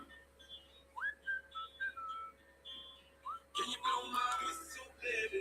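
A person whistles a series of short rising and sliding notes, fairly close and clear, then whistling repeats alongside a louder burst of mixed sound and chatter in the second half.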